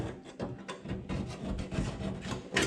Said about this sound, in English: I got a paint scraper.